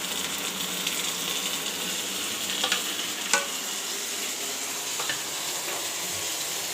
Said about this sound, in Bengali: ওই সাইড থেকে পেঁয়াজ আর মরিচ ভাজা হয়ে যাবে।